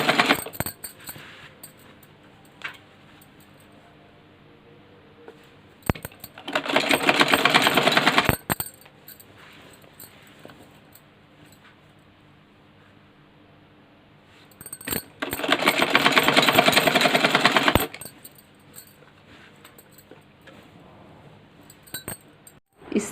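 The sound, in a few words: sewing machine stitching a petticoat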